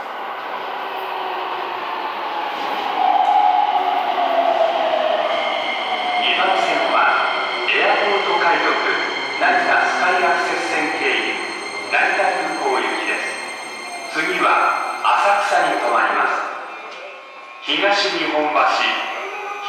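A Keikyu New 1000 series train on the Toei Asakusa Line at Higashi-Nihombashi station, its motors and wheels humming and rumbling steadily at close range, with a station announcement in Japanese playing over the noise.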